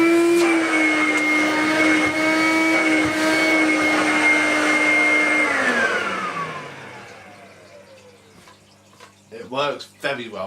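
A Vorwerk VK120 vacuum cleaner with an upholstery brush fitted hums loudly and steadily, then spins down with a falling whine as it is switched off. Someone starts talking near the end.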